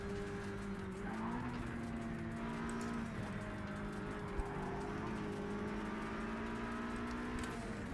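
Race cars in the video game Project CARS 3, including a Mustang and a classic BMW, hum with a steady engine drone that shifts pitch slightly, heard alone at an even level throughout.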